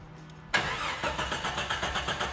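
Jeep Comanche with a high-mileage engine cranking and firing up: a sudden loud catch after a quiet moment, then a rough, slightly uneven rhythmic idle with pulsing beats, close by.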